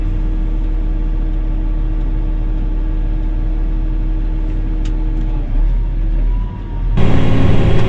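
Inside a pickup truck on the move, a loud steady engine and road drone hums for several seconds, dips briefly, then swells into heavier, rougher noise near the end.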